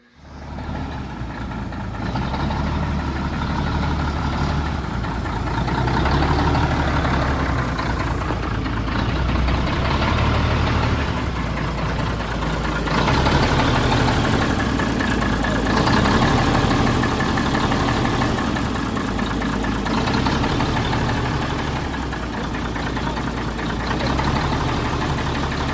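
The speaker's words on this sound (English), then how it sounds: "when it was sitting there idling, it was just kind of revving up and down" An old red Mack RD688S truck engine idles steadily and loudly, its rumble swelling and sagging as it revs up and down on its own, with no talking.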